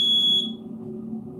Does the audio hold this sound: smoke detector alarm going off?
yes